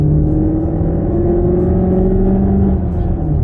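A Cupra Terramar VZ PHEV plays its artificial engine sound while accelerating, giving a loud, close, continuous synthetic rumble with rising tones that fades slightly near the end.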